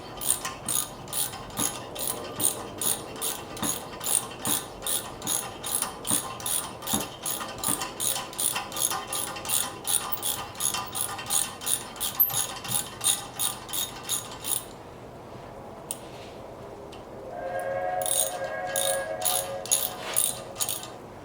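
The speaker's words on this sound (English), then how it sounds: "So I just put an 8-point socket on here." A ratchet wrench fitted with an 8-point socket clicks in fast, steady bursts while turning rusty, gunked-up bolts, each stroke loud and close, then a short pause before a few more rapid ratcheting strokes.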